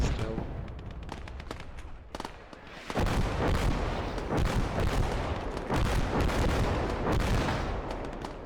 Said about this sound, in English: Sniper plugging away still.